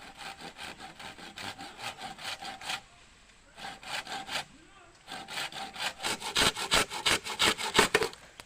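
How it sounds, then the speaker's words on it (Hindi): A hand saw rasps back and forth through bamboo in steady strokes, pausing briefly midway before resuming faster and a little louder. "पिताजी का आरी लेके आ गया हूँ वैसे बांस काटने के लिए"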